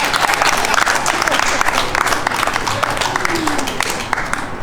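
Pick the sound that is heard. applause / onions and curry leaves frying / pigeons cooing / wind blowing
applause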